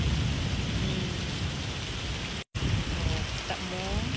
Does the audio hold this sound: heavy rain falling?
yes